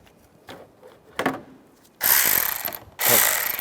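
A ratchet tightens a nut onto a stud during clutch replacement on a 2005-2010 Chevrolet Cobalt: a few soft clicks, then two loud, close bursts of rapid ratcheting, each about a second long.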